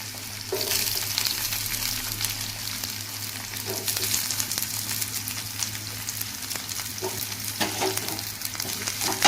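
Chopped large onion sizzles steadily in a pan of hot oil alongside green chillies for a capsicum curry, a continuous close frying hiss with occasional stirring scrapes and no voices.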